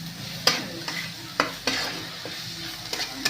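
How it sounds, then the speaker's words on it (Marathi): Masala roasts in a pan while being stirred, soft sizzling under repeated sharp scrapes and clinks of a spatula against the pan at an uneven rhythm. "भाजलाय मसाला चांगला छान असा."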